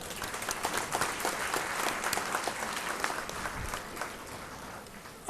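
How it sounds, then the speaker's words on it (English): An audience at a college first-year inauguration in a basketball court claps for a dignitary, a sustained, slightly distant patter of many hands with sharper individual claps popping out, gradually thinning toward the end. "let us all join together in giving an applause to Dr."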